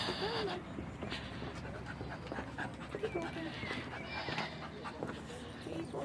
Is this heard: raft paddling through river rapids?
no